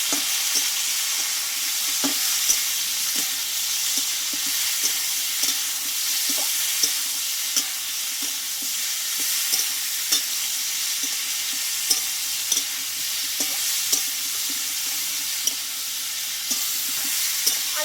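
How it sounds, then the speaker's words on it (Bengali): Boiled papaya and potato stir-fried in oil in a pan for a Bengali vegetarian dish, giving a continuous hissing sizzle with regular light scraping taps of a spatula, steady and close, no speech. "এবার সেদ্ধ করে রাখা পেঁপের আলুটা আমি দিয়ে দেবো ভালোভাবে তেলটা দিয়ে আমি কষিয়ে নেবো"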